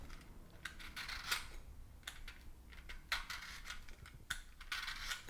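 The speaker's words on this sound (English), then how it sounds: "What I like to do first is I like to peel off the rind" Lemon rind being peeled for lemonade: faint, close, crisp scraping and tearing sounds arriving in short irregular bursts against a quiet room.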